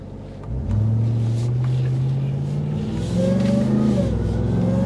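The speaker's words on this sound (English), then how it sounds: "I can hear that supercharger too." A 2024 Final Edition supercharged performance pickup truck engine revs up and accelerates, a steady loud roar with rising supercharger whine that climbs in pitch, then surges again partway through.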